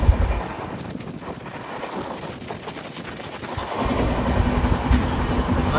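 Heard from inside the Visakhapatnam Weekly SF Express (22802) from Chennai, the train runs fast. A steady, loud rolling roar with wind noise swells toward the end, and a faint whine rises over it.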